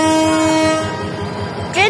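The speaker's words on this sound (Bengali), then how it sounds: "ট্রেন ছেড়ে দিচ্ছে" An old Chittagong Mail train sounds a loud, sustained horn as it departs, followed by rumbling carriages and a brief rising squeal at the end.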